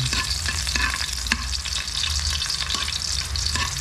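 Garlic sautéing in hot oil for sardines with bitter gourd leaves, a steady close sizzle with occasional clinks of a spatula against the pan and no voices.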